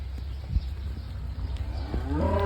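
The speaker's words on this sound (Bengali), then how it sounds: "আমি ফার্স্টে এই গরুটা বের করবো মনে করছি" On a cow farm, a cow moos loudly and close by near the end, after shuffling, thuds and faint farmyard noise.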